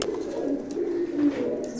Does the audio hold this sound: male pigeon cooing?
yes